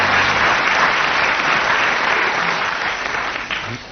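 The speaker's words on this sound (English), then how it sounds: "Let's have a round of applause for Tim Brooke-Taylor" A studio audience gives Tim Brooke-Taylor a sustained, full round of clapping at a radio comedy panel recording, loud and even throughout before easing slightly at the end.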